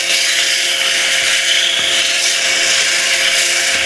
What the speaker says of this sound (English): sand the sides.